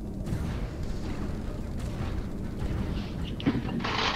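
Space fleet weapons fire in Stellaris battle rumbles as a steady low barrage of muffled booms and mechanical bursts, distant and continuous, with a few sharper hits near the end.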